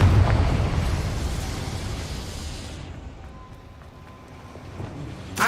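Confringo fire spell in Hogwarts Legacy, a loud booming explosion with a fiery roar that fades over a few seconds before a small pop at the end.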